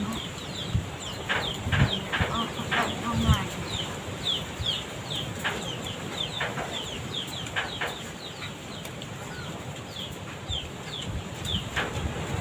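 A hen clucks in short repeated bursts amid chirping birds and farmyard noise, with other fowl calling in the background.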